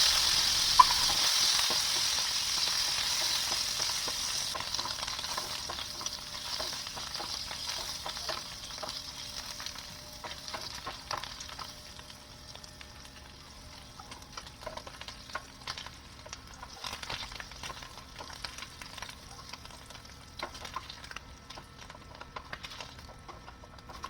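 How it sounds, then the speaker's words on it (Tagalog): Sausage fries in a pan with a steady, close sizzle and spatter that fades slightly over about twenty-four seconds. No talking is heard. "Sunod ko namang niluto guys yung sausage."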